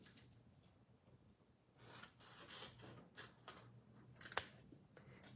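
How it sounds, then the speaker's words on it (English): Snips cut a small piece of cardstock for a tag, quiet rustling and rubbing of paper followed by one crisp, sharp snip near the end, close and soft overall. "Let me get a pair of snips. I just need a little piece"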